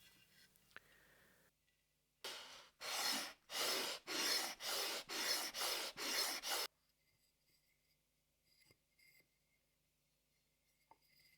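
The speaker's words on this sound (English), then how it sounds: "I will go on each piece with a shooting sander so the angles are exactly" A shooting sander squares softwood lamp frame pieces in a quiet workshop, giving about eight even, rhythmic rasping strokes close up, with silence and a few faint knocks before and after.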